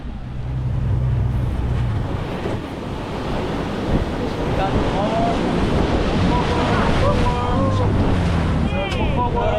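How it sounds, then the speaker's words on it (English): Strong ocean waves churn around a rocking boat off Costa Rica's Corcovado coast, a continuous loud wash of surf and water with steady wind buffeting the microphone throughout. "The waves were strong and the boat rocked back and forth."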